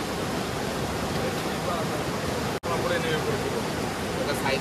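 Rangit river rushing past in North Bengal near Bijanbari, a loud, steady broadband roar of flowing water filling the whole clip with one brief dropout near the middle.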